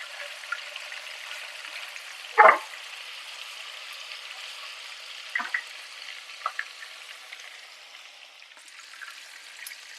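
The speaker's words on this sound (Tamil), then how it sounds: "சிக்கனை திருப்பி விட்டு ரெண்டு சைடும் வேக வச்சுக்கலாம்" Chicken pieces frying in oil in a pan, Trivandrum Vizhinjam-style chicken fry, give a steady close sizzle, broken by a couple of sharp clacks as the pieces are flipped to cook the other side.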